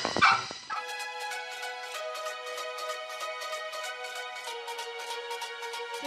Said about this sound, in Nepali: र यहाँनिरको कुकुरले पुरा भुक्दैछ